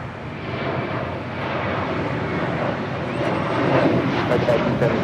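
An airliner takes off at Los Angeles International Airport, its broad jet roar steady and slowly swelling over five seconds, heard from a distance with faint voices underneath.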